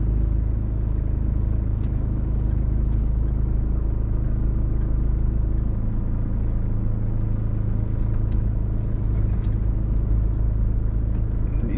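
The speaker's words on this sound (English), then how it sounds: "I mean, these cars are going so fast." Steady, loud road traffic on Hawaii's H-3 freeway, with fast cars rushing past in a continuous low rumble close by and no talk.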